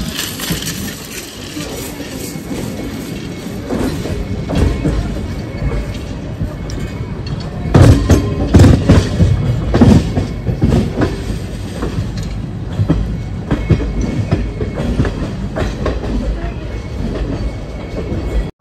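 The 13431 Balurghat Express passenger train runs on rails, heard from inside with a steady loud rumble, rhythmic clickety-clack of wheels over joints and occasional squealing and clanking, with faint voices in the background.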